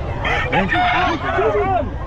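Loud, close rooster crowing rings out at the Bocaue pet market, several curved calls in quick succession with clucking and a crowd murmur beneath.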